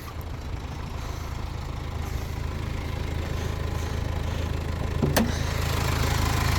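A Subaru Legacy Outback engine idles steadily with a low, even hum, close and constant, with a brief faint click partway through.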